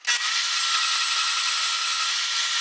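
A power tool cuts a small piece off steel for welded metal-and-wood floating corner shelves, a loud continuous high-pitched grinding whine starting abruptly and holding steady close up.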